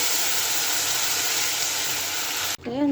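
Lentils with garlic and onion fry in a pan with a steady, close hiss and sizzle that cuts off abruptly near the end.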